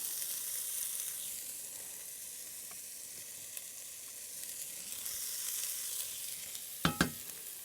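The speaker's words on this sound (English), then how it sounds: "so in goes the onion" Onion sizzling in rendered fat for a 1918-style corn chowder, a soft steady frying hiss throughout, with a couple of louder clatters near the end and no talking.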